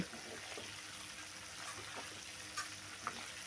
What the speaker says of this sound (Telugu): బాగా వేగాలండి నూనెలో హైలో పెట్టుకొని